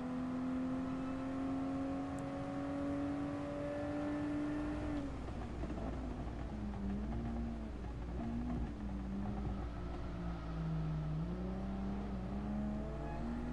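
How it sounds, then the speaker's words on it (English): Car engine in Gran Turismo Sport rising in pitch, then shifting down through sharp turns, with a wavering squeal of tires under the motor, steady and close with no talk. "Little bit of tire squeal through there."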